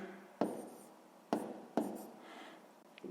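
A pen or chalk writing out a math solution for a grade 6 exercise, three sharp taps followed by short scratching strokes, close and quiet with no talk.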